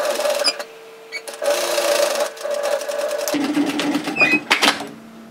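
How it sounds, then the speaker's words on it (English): A sewing machine runs a seam on a knit tee, sewn from the right side, in loud close bursts of rapid needle chatter that stop and restart, with a pitch shift partway through. "especially because I'm sewing it from the right side"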